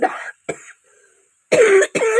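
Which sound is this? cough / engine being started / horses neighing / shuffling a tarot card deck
cough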